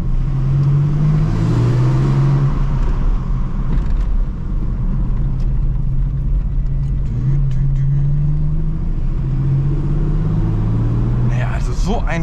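A 1970s Ford Capri 2600 RS engine hums steadily at low pitch with road rumble throughout while driving through a small town, rising slightly at times, while a voice talks over it.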